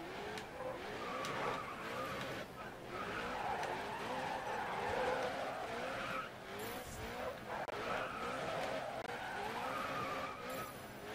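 In the racing game GRID Autosport, a car spins out with tires skidding and squealing in long sliding bursts over a steady engine drone, fairly faint overall.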